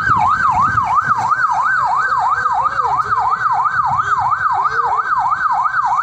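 A fire truck siren from the Kendal fire brigade wails in a steady rising-and-falling cycle as the engine arrives at a burning Fuso truck on the Weleri ring road, loud and continuous over low traffic rumble.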